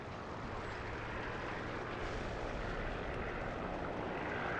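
A Bearcat or Hellcat propeller fighter drones on continuously in the War Thunder combat game, a loud, dense engine roar that stays steady throughout with no talk.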